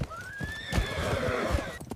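Horses of mounted soldiers in a battle, a loud whinny rising and falling over hoof clops and dull thuds, with another short neigh near the end, close and busy.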